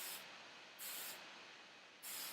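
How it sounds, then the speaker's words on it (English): Hairspray hisses from an aerosol can in three short bursts, each lasting under half a second with pauses between, sprayed close up onto hair being styled into beachy waves. "spray a little bit underneath,"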